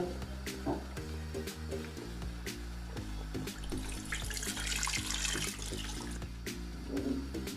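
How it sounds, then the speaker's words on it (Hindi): Water pours steadily into a pot of rajma curry, a continuous splashing flow with faint clinks of cookware, no talking. "अब मैं इसमें पानी ऐड करूँगा।"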